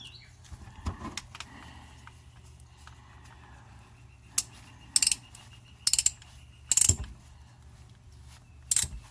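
Ratchet wrench clicking while working on the transmission drain or fill plug of a 2005 Toyota Prius during a fluid change, a few short bursts of ratcheting heard up close in a quiet garage.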